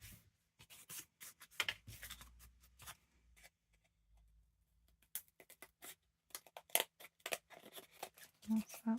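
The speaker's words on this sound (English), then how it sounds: "I might need to trim this up a little bit." Scissors snipping and trimming paper for a rustic, grungy garden-themed journal gatefold, close and quiet, with irregular bursts of cuts and paper handling. A voice speaks briefly between them.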